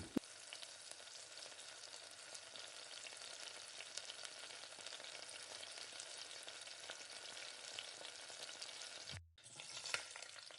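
Cabbage sautés in hot oil with onion, mustard seeds, urad dal, curry leaves, green chilli and asafoetida, giving a steady, close, dense sizzle that runs unbroken and briefly drops out near the end before resuming.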